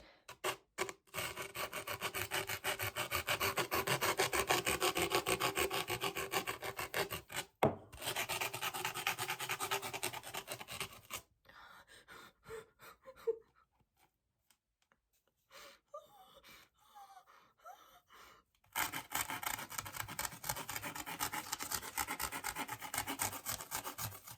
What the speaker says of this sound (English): Just polishing it up a little bit.